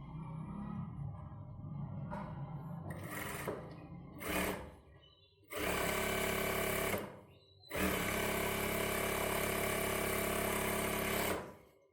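Sewing machine stitching a small strip onto a kids' silk pavadai dress: a few short whirring bursts, then two long, loud, steady runs of rapid needle clatter close by, separated by a brief pause.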